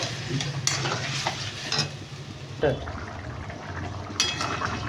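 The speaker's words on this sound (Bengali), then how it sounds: "এই যে জল ঢেলে দিয়েছি, এবার এটা একটু ফুটুক, মশলার সাথে ফুটুক" Chana dal with spices in a pot just after water is poured in, stirred with repeated spoon scrapes and knocks over a bubbling, hissing simmer, heard close.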